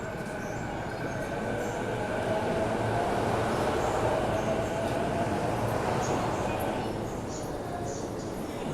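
A Rinkai Line commuter train rumbles and hisses steadily alongside a Shinjuku platform, loud and continuous with faint wheel squeal, and a muffled voice speaks briefly underneath.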